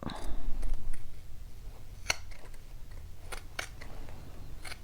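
Scissors cut through a fabric bodice and collar, trimming it even with bias tape, in a few sharp, close snips spaced irregularly over a quiet background.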